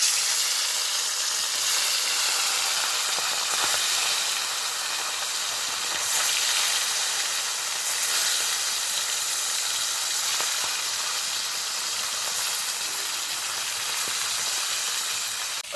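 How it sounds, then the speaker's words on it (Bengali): Katla fish pieces frying in hot oil, a loud, steady crackling sizzle and hiss lasting throughout, close by and with no talk. "এবার মাছগুলো ভেজে নেব।"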